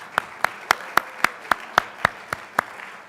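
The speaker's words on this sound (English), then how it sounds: "we give Jessica one more round of applause" Slow, evenly spaced claps, about ten distinct strikes in a steady rhythm, sound at an interfaith Thanksgiving service, fairly close and clear against a quiet room.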